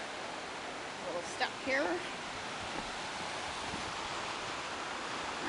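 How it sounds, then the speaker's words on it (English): Decew Falls at Morningstar Mill in St Catharines, Ontario, roars as a steady broadband rush of falling water heard close, with a brief spoken remark over it. "See the waterfall. Listen to it."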